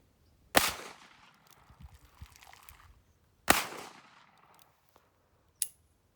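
A Remington Uberti 1875 .45 Long Colt revolver fires at lily pads outdoors: two sharp, distant-sounding shots about three seconds apart, each with a short decaying tail, followed by a smaller faint pop.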